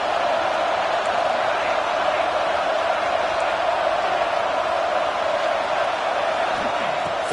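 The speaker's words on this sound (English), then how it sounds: "Listen to the crowd energy here in the early going. This is a tough environment for visitors." A packed stadium crowd roars at a South Carolina college football game, a dense, continuous wash of cheering and yelling that stays loud and even from start to finish.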